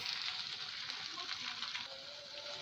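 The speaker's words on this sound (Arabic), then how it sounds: "بعد بقى ما شوحت كده الثوم اللي عندي والبصل هننزل بقى بجزر هشوحه برضو كده كويس" Carrots sauté with garlic and onion in a pot for lentil soup, giving a steady, close, hissing sizzle with faint stirring scrapes throughout.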